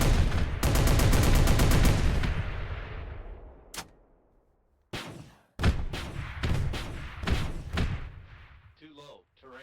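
Video game gunfire in a zombie apocalypse game opens with a rapid automatic burst, then breaks into scattered heavy shots and thuds after a brief pause, while someone talks.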